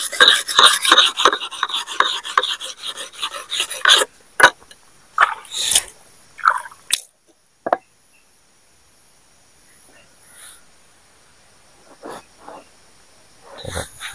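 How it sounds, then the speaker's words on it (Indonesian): A file scrapes rapidly along the blade of a palm oil harvesting chisel, giving a quick run of close, loud rasping strokes, then scattered single scrapes with quiet gaps between them. "kikis bagian yang tinggi dan haluskan untuk bagian bilah dodos ataupun mata dodos yang kasar"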